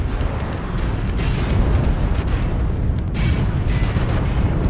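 Heavy mech weapons fire and explosions in MechWarrior Online, a Phoenix Hawk battle on the Grim map: dense, continuous rumbling blasts and booms, loud and sustained without a break, with no talk.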